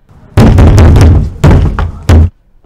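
Knocking on a back door: three loud, close bursts of rapid knocks separated by short pauses, with quiet room tone between them.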